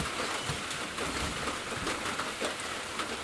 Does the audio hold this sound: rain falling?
yes